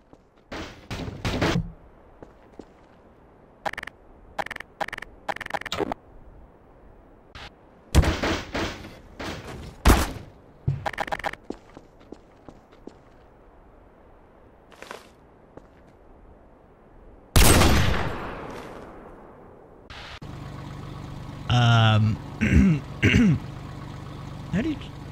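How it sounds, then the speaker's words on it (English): An AA-12 shotgun fires in Garry's Mod, loud sharp blasts scattered in short bursts among quieter stretches, later joined by a steady idling engine hum, with voices talking. "What type of gun is that? An AA-12."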